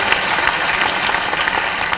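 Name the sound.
audience applause welcoming religious leaders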